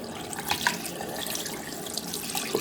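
A magnetic central heating filter part is rinsed of muck under a running tap, a steady splashing water stream with a few louder spatters as the piece shifts under the flow.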